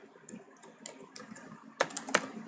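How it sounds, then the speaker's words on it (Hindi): Typing on a computer keyboard while coding a Laravel route, quick irregular key clicks, light at first and then a few louder taps near the end, with no talking. "तो मैं उसके लिए मैं यहाँ पे टाइप करता हूँ"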